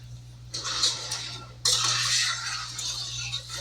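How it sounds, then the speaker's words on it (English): A spoon stirs and scrapes hard candy syrup in a pot on a medium-high stove, in two clinking bursts with no talk. "And we're just going to stir this."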